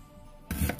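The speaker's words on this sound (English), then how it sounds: "So I'm gonna cut my ginger up." A knife cuts through fresh ginger on a board, preparing a Jamaican sorrel drink: a brief, close burst of chopping that follows near silence.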